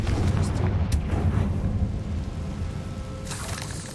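A Confringo blasting spell goes off in the video game Hogwarts Legacy, a loud, rumbling explosive burst that rolls on as a dense low roar with a few sharp cracks over four seconds.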